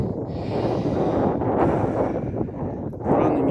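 Steady, loud wind roaring and buffeting the microphone throughout, with gusts swelling and dipping, outdoors in winter after a blizzard, with no voices.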